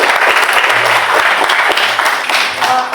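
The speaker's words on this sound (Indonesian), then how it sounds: "Tepuk tangan untuk Pas Kapan." A crowd claps loudly and steadily for a few seconds, dense and continuous.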